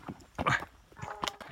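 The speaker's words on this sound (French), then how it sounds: "les chasseurs qui ont sorti les chiens là, je sais pas si vous les entendez" Hunters' dogs bark and yelp in the mountains, several sharp barks in quick irregular bursts, fairly close and loud, with no talk over them.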